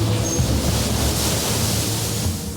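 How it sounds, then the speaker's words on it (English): Atlantic Ocean waves surge around a trawler at sea, a loud, steady wash of surf and wind roaring without a break. "Genesis is once again battling the Atlantic waves"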